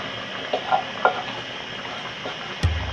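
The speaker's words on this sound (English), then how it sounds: "So at this point we should add the okra." Okra added to a simmering pot of Nigerian egusi soup and stirred: soft scraping and bubbling strokes at a moderate level, ending with a sharp knock of a spoon against the pot.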